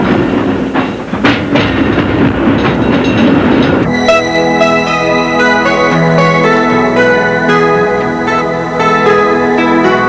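A San Francisco cable car runs on its rails toward Nob Hill, a loud rumbling ride that shifts into steady tonal wheel and cable whine with a sustained metallic hum, continuous and close throughout.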